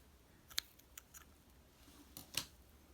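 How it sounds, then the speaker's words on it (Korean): Scissors snip crochet yarn during work on a fluffy flower-bouquet dish scrubber, two or three quick, crisp close-up cuts with faint clicks between them in an otherwise quiet room. "실을 잘라줍니다."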